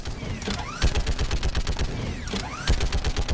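Rapid bursts of automated turret fire in the Mass Effect: Legendary Edition game, loud repeated volleys with metallic sweeping whooshes between them, a brief pause near the middle, then firing resumes.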